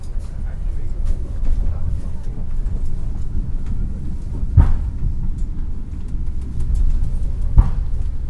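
Aboard the Tawang Alun train, the cars rumble and rattle on the rails in a continuous low roar close around, with a couple of sharp knocks standing out.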